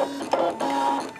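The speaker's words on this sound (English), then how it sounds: "we're ready to cut the test pattern" A Brother ScanNCut machine cutting a test pattern in cardstock, a brief close whirring motor hum with a few stepped tonal shifts and soft mechanical clicks.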